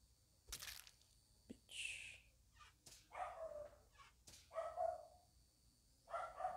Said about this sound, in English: if you can hear my dog